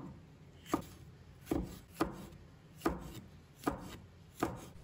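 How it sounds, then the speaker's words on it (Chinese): A knife chops red chili into thin rings on a board, six crisp evenly spaced strikes, close and clear with no voices. "再准备红辣椒，把它切成薄圈"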